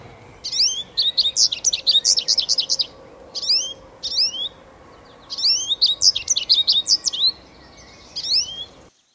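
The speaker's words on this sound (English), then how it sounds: "Goldfinch." Goldfinch song: bursts of bright, rapid twittering chirps and trills in two main phrases, clear and fairly close over a faint steady background hum.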